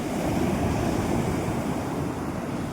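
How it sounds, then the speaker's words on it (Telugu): Ocean surf washes onto Yarada beach in a continuous broad roar, with wind buffeting the microphone and no voices. "బీచ్ చూడండి ఒకసారి, అది చూడండి, ఆ వేవ్ చూడండి ఎలా వస్తున్నాయో"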